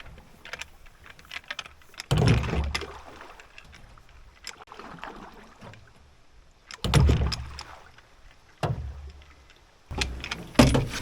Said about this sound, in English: I'd end up just paddling for a bit.